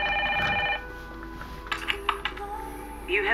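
A telephone ring in the audio game Evidence 111 ends abruptly, followed by scattered clicks, taps and shuffling handling noises over a low steady hum.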